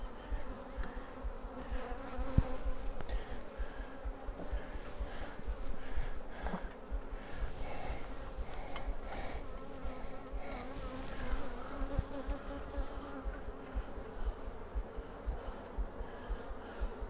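Dense, steady buzzing of many honeybees swarming close around an open hive during a beehive inspection with capped brood, continuous and loud for the whole stretch with no talking.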